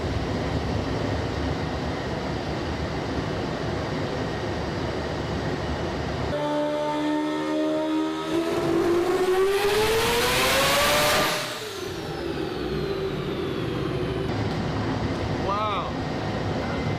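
A turbocharged four-rotor Mazda RX-7 doing burnouts on a dyno: a loud, continuous engine roar that climbs steeply in pitch as it revs hard, then drops back to a rough idle, with voices faintly present.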